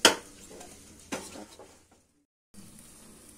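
A metal lid set down on a pan while a sweet dosa made from sathipindi (balamrutham) batter cooks with oil, giving a sharp clatter, a second softer clink about a second later, and then a brief quiet.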